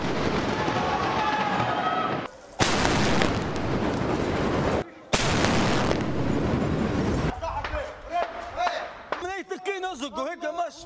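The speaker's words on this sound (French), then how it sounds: "C'est au canon qu'ils les débusquent un par un." Tank cannon fire aimed at sniper positions in occupied buildings during urban combat in Libya: two massive, close blasts that saturate everything, each lasting a couple of seconds, followed by shouting voices and scattered distant noise.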